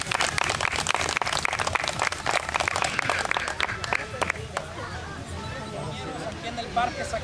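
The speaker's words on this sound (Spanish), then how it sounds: "Aplausos." People at a church gathering in Parque Zacatecas in Azusa, California applaud outdoors for about four seconds, and the clapping then fades into general crowd chatter.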